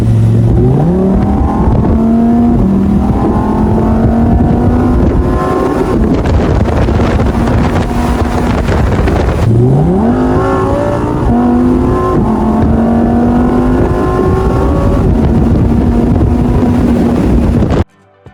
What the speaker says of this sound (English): the thrill of extreme driving as the engine roars